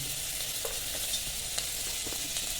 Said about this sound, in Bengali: বাটারটার সাথে সাথেই আমি রসুনটা কুচিটা দিয়ে দিচ্ছি।